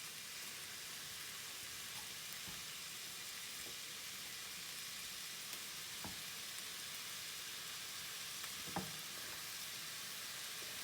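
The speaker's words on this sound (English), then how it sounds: "If you are adding ground beef, go ahead and put it on your stove now and start cooking." Ground beef fries in a pan for lasagna with a faint, even sizzle and a few soft clicks, and no talk over it.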